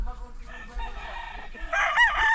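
A rooster crows once, fairly close, its call rising strongly near the end over quiet background.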